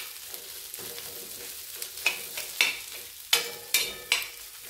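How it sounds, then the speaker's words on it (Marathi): Salt being stirred into potato chutney with green chilli kharda frying on low heat, a soft sizzle broken by a series of sharp spoon scrapes against the pan, close, with no voices. "आता चवीनुसार मीठ व्यवस्थित असं मिक्स करून घ्यायचं"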